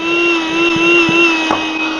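DeWalt air compressor running in deflate suction mode, a loud steady motor whine with a constant hum and a few faint knocks.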